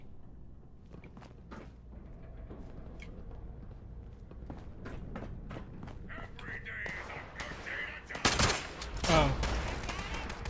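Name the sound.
gunfire from the video game Fallout 76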